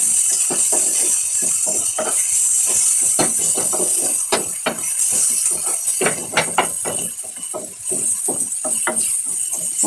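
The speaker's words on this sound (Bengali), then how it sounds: "মশলাটাকে ভালো করে কষাতে থাকলাম" Cumin and coriander powder spice masala is fried in a pan for sonamoong dal, with a steady hiss under frequent sharp scrapes and taps of a spatula stirring against metal.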